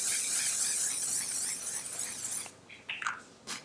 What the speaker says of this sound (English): this is the On Till Dawn Mattifying Waterproof Setting Spray